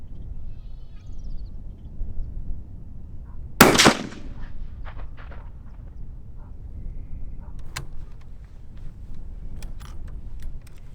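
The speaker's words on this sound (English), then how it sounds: "Time to start shooting." A single sharp rifle shot cracks out at a 100-yard range, fired through a Meopta Optika 6 scope, with a short echo tail over steady outdoor background noise and a few faint clicks afterward.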